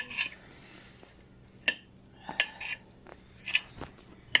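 A knife chops bird liver into fine pieces for Thanksgiving stuffing, giving irregular sharp clicks and taps on a hard surface with quiet pauses between the strokes, close and moderately loud.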